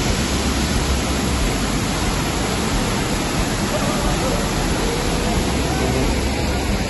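Waterfall and heavy monsoon rain at Amboli ghat make a dense, constant roar with no breaks, loud and close, masking everything else.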